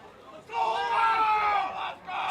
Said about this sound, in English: you can hear the arguments from the crowd saying he was thrown out twice in this inning